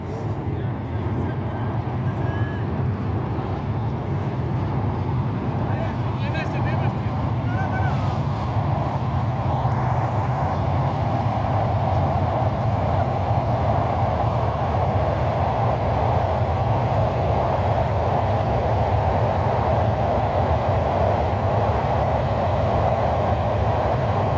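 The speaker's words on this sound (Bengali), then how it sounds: "এই ট্রেন আসতেছে" A train rumbles across a bridge near Mawa ghat, a steady, loud, continuous roar that holds for the whole stretch, with a person talking over it.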